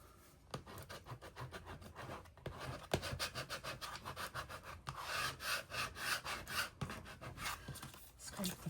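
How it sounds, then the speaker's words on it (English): A scraper rubs repeatedly across a crafting surface with transfer tape, making close, rhythmic rasping strokes in a steady back-and-forth series, with faint breathing beneath. "scrape the back, and I like it going from bottom to top"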